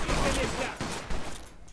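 Gunfire in the crime game Mafia 2, a series of fairly close, sharp shots and clattering reports in quick succession, fading off toward the end.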